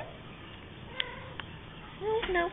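A house cat gives a short meow near the end after a couple of faint clicks, quiet and close, with a soft voice heard around it.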